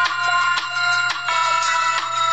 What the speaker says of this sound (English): And this is the ringtone for my friend.